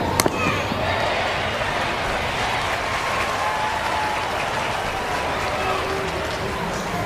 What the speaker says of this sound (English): You had the fans, they were clapping.